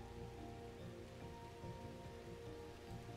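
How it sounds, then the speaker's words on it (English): Heavy rain pours steadily in the video game Universim, a dense continuous wash of drops on surfaces with a low rumbling undertone, no voices. "That's some pretty hardcore rain."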